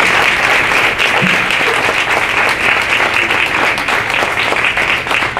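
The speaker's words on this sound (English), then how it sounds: "so they definitely deserve a round of applause." Sustained audience applause at an awards ceremony for anti-abuse work in Long Beach, a dense, steady wash of clapping with no speech over it.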